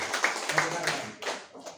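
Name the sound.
congregation clapping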